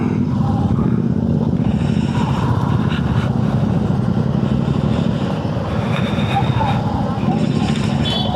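Several motorcycles setting off together at the start of a group ride, with engine rumble and revving blending into a continuous roar under loud, almost constant talking from nearby riders.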